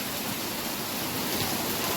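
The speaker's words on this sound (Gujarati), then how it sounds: "મસ્ત મજાનો વરસાદ ચાલુ થઈ ગયો જો ફરિયા બારા પાણી વહ્યા જાય છે" Steady rain pours down in a village yard, with runoff water streaming away, a dense, even hiss that stays close and constant throughout.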